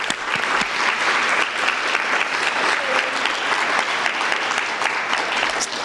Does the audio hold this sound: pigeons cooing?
no